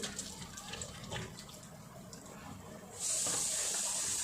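Water pours and splashes steadily at close range while shampoo is rinsed from someone's hair at home, then the flow turns into a louder, hissing tap stream for the final second.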